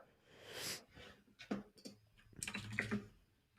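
Bursts of quick keystrokes clatter on a computer keyboard while entering commands in a terminal, with irregular clusters of clicks separated by short pauses, close and fairly quiet.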